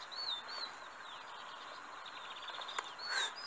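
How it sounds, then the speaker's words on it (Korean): Small birds chirp and whistle in short, bright, repeated calls at a night fishing spot, heard fairly close against a soft outdoor background hiss, with one sharp tick partway through. "새소리가 많이 들려요 지금"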